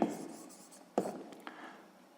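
Pen scratching on paper while a maths solution is written down, faint short strokes with a couple of sharper taps, quiet and alone.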